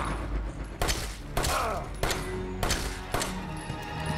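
Five or six sharp, heavy gunshots from Resident Evil 7 land roughly every half second to second, each with a booming decay, and close and loud over a quieter background.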